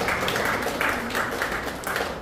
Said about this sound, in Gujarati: તાળીઓ પાડી અભિવાદન કરીએ.